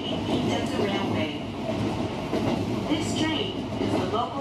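Kintetsu Kyoto Line local train bound for Kintetsu-Miyazu, heard from inside while running: a steady rumble of wheels and motors with faint rhythmic clatter, under a Japanese onboard announcement.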